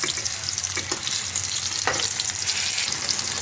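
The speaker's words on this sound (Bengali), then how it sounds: "বেগুনগুলো আমি উল্টে ভেজে নিচ্ছি।" Eggplant pieces fry in hot oil in a kadai while being turned, a steady close sizzle with a few soft knocks from the spatula.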